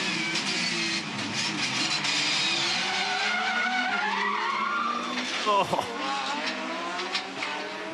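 A Porsche Cup race car locks its rear tyres while being shifted down toward first gear and slides around, giving a loud screeching skid over the engine note. A person briefly reacts over it.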